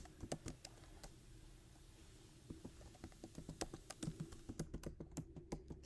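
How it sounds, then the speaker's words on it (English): Fingers typing on a computer keyboard, a quiet run of crisp, irregular key clicks that quickens into a denser patter of taps toward the end. "And I'm going to type in"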